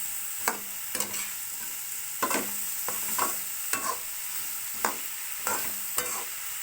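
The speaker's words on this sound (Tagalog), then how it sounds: "Haluin po natin ng mabuti para ma-mix po yung ibabaw para pantay po ang pagkaluto." Sautéed chayote and ground meat are stirred in a pan with steady, rhythmic scraping strokes, about eight in a row, over a soft continuous sizzle.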